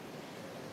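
Surf rollers break against a coast where fishermen launch tiny pirogues, heard as a short, steady wash of broadband ocean noise with no voices.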